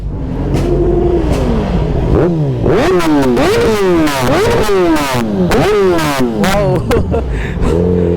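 Motorcycle engine revved hard in repeated throttle blips, pitch sweeping up and dropping back several times, loud and close with people talking over it.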